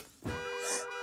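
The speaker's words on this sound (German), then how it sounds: "Oh, oh, ein Alarm." An electronic alarm in a German-language PJ Masks cartoon sounds as a steady, loud buzzing tone with a bright high shimmer, beginning abruptly after a brief thump.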